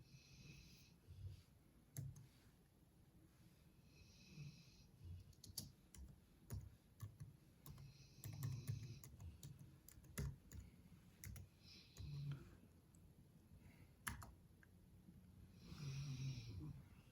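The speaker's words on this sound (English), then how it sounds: "snoring." Someone snores in the background, repeated breathy snores roughly every two seconds, faint and distant, mixed with scattered keyboard typing clicks nearby.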